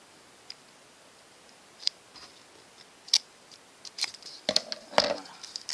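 Scissors snip through a folded sheet of paper in short, crisp cuts, sparse at first and then quicker and closer together, close by in a quiet room.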